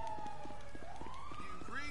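A police siren wails in a GTA V game, its pitch rising and sweeping over a rapid rhythmic pulsing backdrop, loud and continuous for under two seconds.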